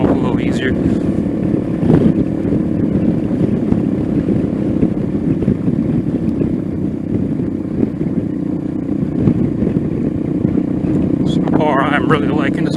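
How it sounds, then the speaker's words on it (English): Venom Ghost 250 motorcycle engine running while riding after a valve adjustment, a steady droning hum mixed with wind buffeting, continuous throughout, with a rider talking over it. "the engine feels a little better just from adjusting the valve"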